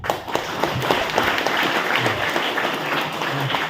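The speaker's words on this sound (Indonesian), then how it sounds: "Tepukan boleh." An audience at an Islamic boarding school orientation session applauds steadily, a dense wash of many hands clapping throughout, fairly close and full, with no clear talk over it.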